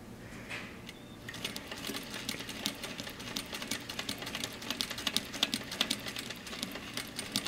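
A Juki 8700 sewing machine stitches in a fast, steady mechanical rattle of even needle strokes close by, starting after a brief pause and running on alone at a moderate level.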